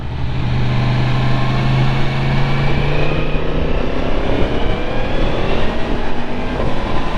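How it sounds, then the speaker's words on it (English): A 2023 Yamaha MT-10 motorcycle with stock exhaust hums steadily and loudly at cruising speed, with rushing wind and road noise and a subtle pitch shift as revs change. "I'm actually kind of surprised at the stock exhaust. It sounds good. Sounds really good. It's just quiet."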